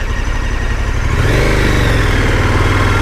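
A KTM 1290 Super Adventure S motorcycle engine runs close by, a low throbbing note that climbs and holds steady as the throttle opens, loud and alone.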